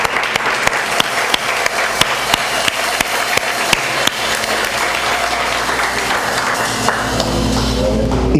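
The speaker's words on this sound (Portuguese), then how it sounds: "Dê uma salva de palmas para esse Jesus maravilhoso." Church congregation applauding loudly and steadily for several seconds, with sharp claps dense throughout, close and filling the room, no talk over it.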